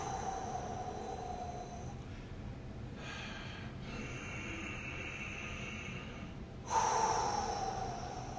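Deep breaths are drawn and released during a breathwork exercise, heard as several long, close, airy inhales and exhales in a quiet room, with a sharper rush near the end.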